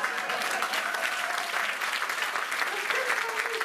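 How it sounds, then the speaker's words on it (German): Audience applause at a stand-up magic show, a steady burst of many hands clapping at moderate level, with a few voices faintly mixed in beneath it. "Das ist ein Applaus."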